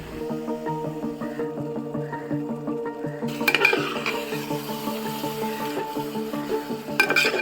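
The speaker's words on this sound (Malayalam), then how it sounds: "ആ മീൻ ഇട്ട് നന്നായിട്ട് ഇളക്കി യോജിപ്പിക്കുക" Fish being stirred into boiling vinegar in a pot for Kerala fish pickle: steady bubbling and sizzle with soft scraping stir strokes and occasional clinks of the spoon.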